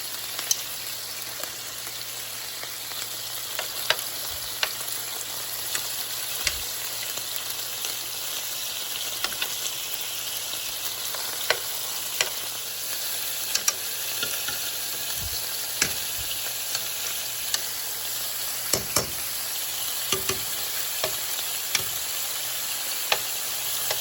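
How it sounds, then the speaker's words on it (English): Beef meatballs sizzle steadily in a frying pan, a continuous crackling hiss dotted with sharp pops and occasional clicks as they are turned one by one, with no talking. "let's go ahead and flip them on over"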